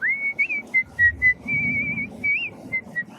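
A person whistles a tune close by, a clear steady melody of short and held notes with brief breaths between phrases.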